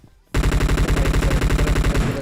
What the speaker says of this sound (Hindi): यहाँ नीचे पे गोलियां भिड़ जाती है